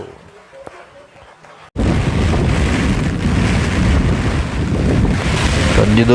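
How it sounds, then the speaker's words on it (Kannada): A Bangalore thunderstorm brings strong gusting wind and heavy rain; after a quiet opening, a loud roaring rush of wind buffeting the microphone takes over and grows steadily stronger. "ಮಳೆ ಜೊತೆ ಗಾಳಿ ಎಷ್ಟು ಜೋರಾಗಿ ಬರ್ತಾಯಿದೆ"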